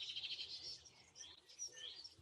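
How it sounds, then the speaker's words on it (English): Birds chirp in a short burst of bright, rapid high tweets that overlap and come close together, fairly faint, with no talk. "Let's chirp like those birds."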